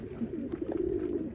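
Pigeons coo steadily inside a loft, a low, throaty, continuous warble that sounds close and moderately loud, with no voices.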